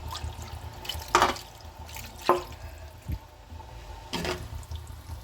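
Cornflour slurry poured into a pan of chilli chicken, heard as a few short splashy pours and drips over a low background hum, with no talking.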